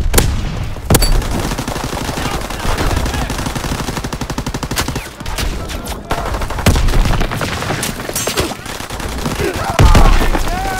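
Sustained automatic gunfire from a Call of Duty multiplayer battle against infantry near a tank, loud and dense for about ten seconds, with rapid bursts overlapping into a continuous roar and a few heavier cracks standing out.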